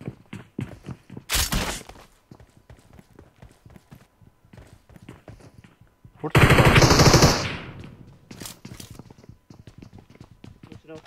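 PUBG Mobile gunfire comes in two loud automatic bursts amid constant in-game footsteps, while players talk over it.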